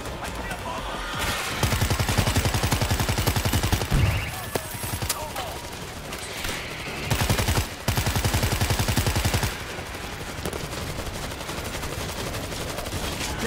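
Machine gun fire in the zombie shooter World War Z, set in Tokyo, with fast rattling bursts of several seconds each standing out over a continuous background of game noise.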